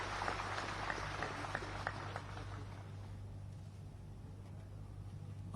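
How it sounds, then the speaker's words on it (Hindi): An audience applauds at an official launch event for the Ayushman Bharat health scheme for CAPF personnel. Dense, steady clapping fills the hall and slowly thins and fades. "आप सभी की तालियों की गड़गड़ाहट के साथ उन्हें बुलाते हैं।"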